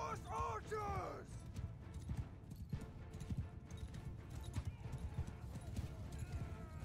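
Horses gallop in a Mount & Blade II: Bannerlord battle, with a whinny at the start followed by rapid, steady hoofbeats, dense and fairly close, amid battle noise.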